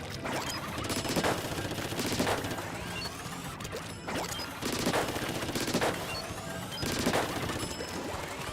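Charged weapon shots in the video game Splatoon 3, several sharp impact bursts spaced about a second apart over a busy, constant battle din, loud and near.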